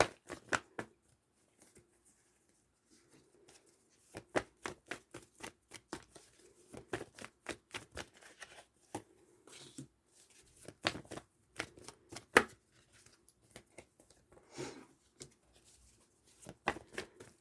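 Tarot cards being shuffled by hand in quiet irregular bursts of soft riffling and flapping, close and faint, with short pauses between handfuls.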